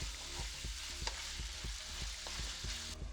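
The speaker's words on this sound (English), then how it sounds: "Okay, so the seafood is pretty sauteed up and ready to go. Usually about 3 to 4 minutes, so give it a little stir." Seafood sautés in a pan with a loud, constant sizzle while a utensil stirs it, leaving regular soft scrapes and taps through the hiss. No one speaks.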